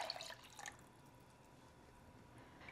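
Water is poured into a coconut milk green curry in a pot, a brief close splashing trickle at the start that fades into a quiet background.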